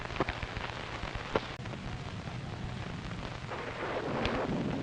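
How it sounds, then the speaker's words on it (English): Steady rain patters on a hard surface, a dense continuous hiss with a few louder drips and no voices. "It's liable to rain all night."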